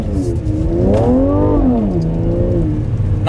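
A Mercedes C43 AMG convertible revs and accelerates on snow, the engine note loud and close, rising and falling as traction control cuts in.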